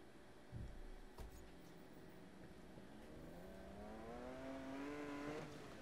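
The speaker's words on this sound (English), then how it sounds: "Let's get some Lambo V12 sounds in this video." Lamborghini Countach V12 in Need for Speed Most Wanted (2012) revving up, its rising engine tone climbing steadily toward the end over a low, constant rumble, with a couple of brief thumps early on.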